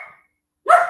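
Dog barking in a single short burst after a brief faint sound, fairly close and loud, heard alone with no talking.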